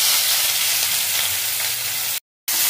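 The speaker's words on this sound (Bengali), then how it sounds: "পেঁয়াজ আমার ভাজা ভাজা হয়ে গেছে" Chopped onion and garlic frying in a hot pan give a loud, dense, continuous sizzle up close, cut briefly by a moment of silence near the end.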